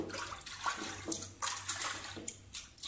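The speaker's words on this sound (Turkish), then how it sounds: "Şimdi kimyasalımızı dökelim içeriye." Chemical sealant liquid poured into a leaking water pipe during a no-demolition pipe repair, heard as a continuous gurgling, splashing flow of liquid with several surging bursts, fairly close and steady throughout.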